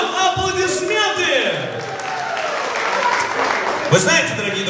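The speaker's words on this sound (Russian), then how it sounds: "Аплодисменты!" Audience applause at a hosted stage show, steady clapping from a crowd through the whole stretch, with a host's voice and shouts mixed in over it.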